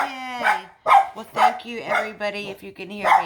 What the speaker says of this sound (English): Sorry about the barking, guys.